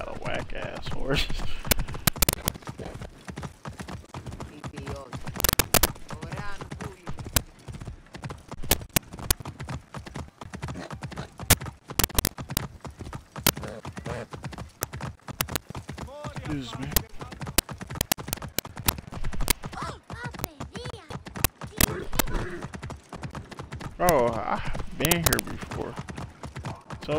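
Horse hooves pound in rapid, loud clip-clop bursts while a mount gallops in Assassin's Creed Origins, with game effects around them and someone talking over the action.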